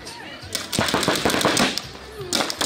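Paintball markers fire in rapid bursts of sharp pops during a paintball game, close and fairly loud, with people talking and shouting over the shots.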